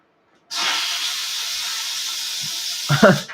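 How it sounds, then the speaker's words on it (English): Steam hisses from a kitchen appliance, starting abruptly and holding a steady, loud, airy hiss before a brief clatter near the end. "we're gonna hit this button and it's gonna steam my cupboards"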